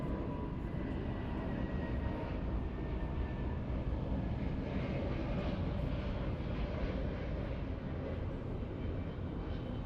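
A Dreamliner airliner at Los Angeles International Airport makes a steady, distant jet roar that fills the whole stretch at an even level. No one talks over it.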